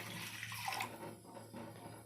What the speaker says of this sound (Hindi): 2 ग्लास आपको वाटर ऐड करना है इसमें।